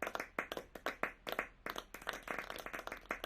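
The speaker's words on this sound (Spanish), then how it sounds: "un aplauso bien merecido por toda la información que nos han transmitido" A handful of people clap quietly and unevenly at an online export and logistics seminar. The separate hand claps are distinct and come in scattered bursts rather than a full ovation.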